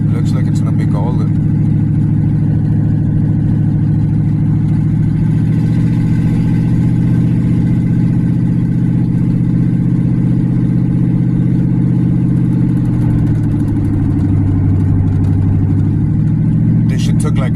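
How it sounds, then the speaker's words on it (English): A hot rod car rolls along slowly in second gear, its loud, low engine rumbling steadily throughout with a slight dip and rise in pitch near the end, and a voice talking over it. "Shifting to second, I'm taking it slow, letting the transmission get its little pace"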